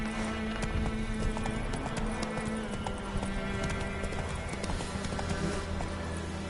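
A horse gallops in the Witcher 3 video game, its hooves clip-clopping in a fast, steady rhythm over a soft background bed. A brief whinny sounds at one point.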